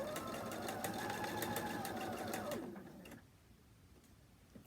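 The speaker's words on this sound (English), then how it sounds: "One thing you could do when you're sewing the pom-poms on is to maybe pull them out of the way so the machine doesn't capture them." Sewing machine stitching pom-poms onto a quilt: fast, steady mechanical chatter with rhythmic ticking, close and fairly loud, then winding down and stopping near the end, leaving a quiet room.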